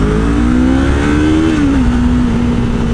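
A Yamaha MT-03 motorcycle engine revs hard and loud, its pitch climbing steadily, dipping briefly, then holding high near the mic over continuous road noise.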